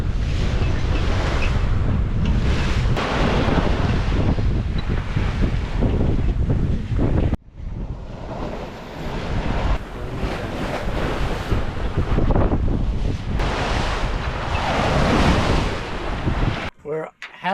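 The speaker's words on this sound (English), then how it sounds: "30-mile-an-hour gusts" Strong wind gusts at around 30 miles an hour roar across the microphone while sailing on the Chesapeake, a loud, continuous buffeting rush mixed with waves and boat noise, briefly dropping before surging again.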